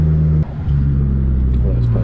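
A Toyota Corolla T-Sport engine drones steadily and loudly from close range while driving, its low throbbing hum dipping briefly before settling back to an even tone.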